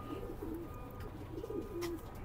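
Racing pigeons coo softly and repeatedly, close by, in two low throaty bursts over a quiet outdoor background with faint ambient noise.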